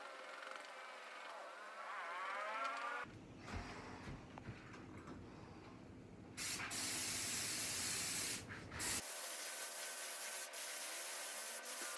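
A spray gun applies NC lacquer paint thinned with ND thinner, with a sustained close hissing spray burst lasting several seconds, louder in its second half, framed by quieter background hum.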